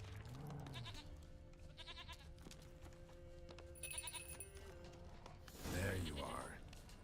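Goat bleating in The Witcher 3, a few harmonic cries rising from game ambience with music, then a louder burst near the end, while a person talks over it.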